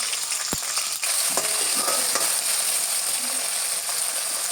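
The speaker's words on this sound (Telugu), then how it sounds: "ఆయిల్ వేసుకున్నాక కొద్దిగా వేడెక్కైనాక ఏడ పచ్చిమిరపకాయలు" Green chillies frying in hot oil for a village-style chicken curry, a loud, steady crackling sizzle filling the whole clip, with a few brief clinks of a utensil stirring the pan.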